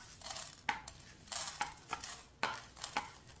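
Urad dal and chana dal roasting in oil in a pan, with repeated scraping stir strokes and light rattling of the lentils, close and fairly quiet, no voices.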